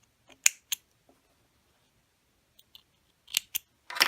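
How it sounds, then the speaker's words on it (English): Scissors snip the thread tail off a serged rolled hem in several sharp, close clicks: a quick pair, a long quiet gap, then another cluster of snips, with no talking. "if you don't have your knife on, you want to get in there and just clip that off close to the edge"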